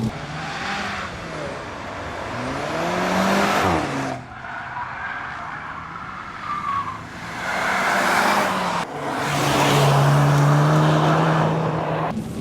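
A Skoda Octavia Combi RS 245 engine revs hard under acceleration, rising in pitch through the gears with brief dips at each shift, loud and close with no talking.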